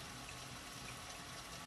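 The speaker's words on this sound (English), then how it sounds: "just place it in the sink so the water from the faucet flows into the side opening" Water from a kitchen faucet flows into a 3D-printed berry washer sitting in a sink, making a steady, even hiss and splash that stays constant throughout.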